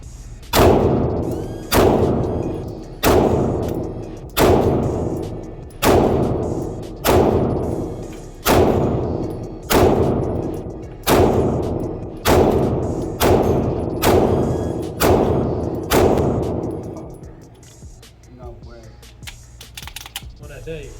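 A Staccato CS micro 2011 subcompact pistol fires about thirteen loud, sharp shots in a steady, even cadence roughly a second apart, each with a short ringing tail, before things go quiet.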